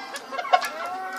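A fighting rooster lets out a quick series of close, loud clucks with a brief crowing note, heard alone.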